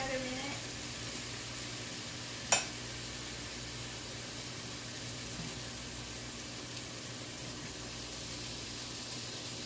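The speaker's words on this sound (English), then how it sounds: "we'll let our onions cook for another minute." Onions fry in a pan with a steady, soft, continuous sizzle throughout and a single small clink early on, under a quiet talking voice.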